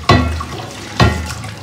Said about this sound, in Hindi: चलो अब इसको पानी से साफ कर दो